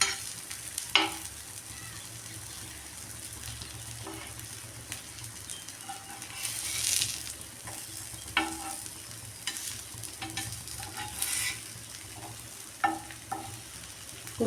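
Pieces of elephant foot yam fry in a pan with a low steady sizzle, broken by intermittent scraping stirs and clinks, fairly close.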